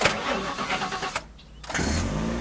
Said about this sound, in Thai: สตาร์ทรถแบบเป็นระบบเลยนะ